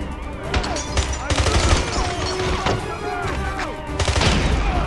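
Machine gun fire in the video game 007 Blood Stone, a dense fusillade of rapid bursts and heavy impacts sustained loudly throughout, with game effects layered in.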